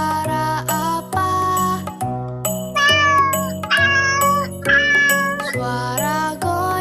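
A cat meows repeatedly, loud and close, with several drawn-out, wavering cries in a steady series and no talking.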